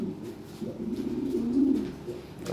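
Lahore siraji fancy pigeon cooing close up, a few soft, low, throaty coos rolling one into the next over a couple of seconds, with no voices.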